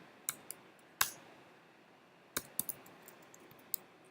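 Code being typed on a computer keyboard: sparse, crisp clicks of individual keystrokes, irregular and close, with short pauses between small clusters of taps in a quiet room.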